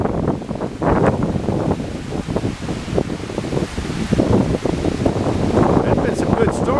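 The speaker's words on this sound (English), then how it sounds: "I don't know whether you can hear the wind or not." Wind blowing outdoors during stormy weather, a rough continuous rumble and gusting buffet close to the microphone, with someone talking over it.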